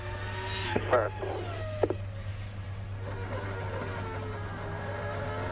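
A Formula One car from the 2002 San Marino Grand Prix warm-up rolls slowly and gently through a gravel trap, its engine whining in rising and falling tones at moderate distance, with commentary over it.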